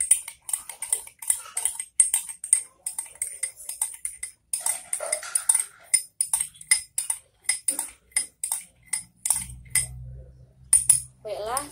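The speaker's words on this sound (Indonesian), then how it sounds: "Lalu kita aduk." A spoon stirs eucalyptus oil and cooking oil in a glass, producing a steady run of sharp, bright clinks against the glass, close and clear, with a brief low rumble near the end.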